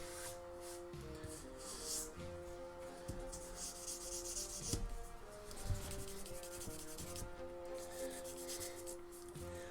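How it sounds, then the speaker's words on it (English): Buffing a plastic part of a Bandai Figure-rise Standard Piccolo model kit makes a steady, soft rubbing and sanding scrape that runs continuously with small surges, heard up close and quiet, with no talking. "Let's see if I can't fix it by buffing some of it out."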